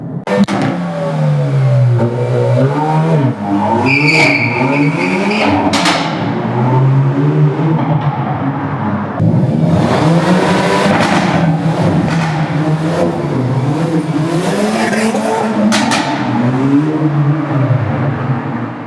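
A Hyundai i30 N Fastback engine in N mode revs up and down repeatedly, rising and falling pitch with a sharp, singing tone, recorded close and loud throughout.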